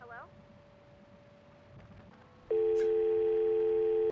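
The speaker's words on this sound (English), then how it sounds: "I don't know why the dial tone made me jump" A telephone dial tone in a call-center horror video game sounds loud and steady after a brief faint tone and quiet ambience, holding for about a second and a half before cutting off; a person talks faintly.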